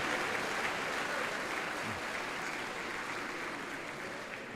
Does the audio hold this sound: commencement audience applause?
yes